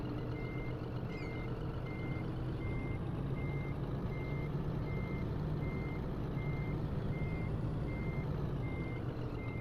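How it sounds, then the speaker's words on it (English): A truck reversing in Scania Truck Driving Simulator sounds a steady, evenly spaced alarm of about a dozen clear beeps, each short and equally loud, over a constant low engine rumble, with no voices. "We will back the truck into this corner."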